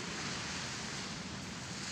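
Ocean surf at a beach in Lombok, a steady wash of breaking waves with some wind noise, continuous and fairly soft with no voices.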